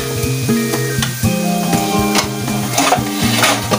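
Ground beef with carrots and potatoes sautéing in a hot pan, a loud steady sizzle with stirring scrapes and clinks of a utensil throughout.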